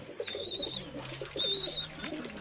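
Pigeons of Pakistani breeds coo softly and repeatedly close by, with chirpy bird calls overhead and a low steady murmur underneath.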